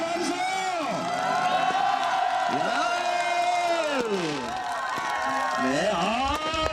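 A large crowd roars and whoops loudly at an outdoor event, urged on to make fireworks go up, with voices rising and falling in waves of shouting and cheering throughout, sustained and dense.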